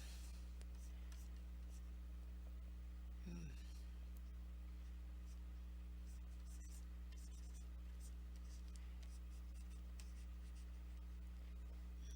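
A pencil sketches a monster design on paper, making faint, intermittent scratching strokes under a steady low electrical hum in a quiet room.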